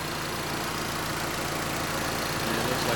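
A 2006 Mazda Miata MX-5 Touring convertible's 2-liter four-cylinder engine idles steadily, a smooth, even hum heard close up and uninterrupted by talk.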